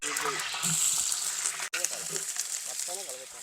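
Cinnamon, cloves, cardamom and green chillies frying in oil for a Rayalaseema-style chicken pulusu biryani, a continuous bright sizzle under a person talking, with a brief pause midway.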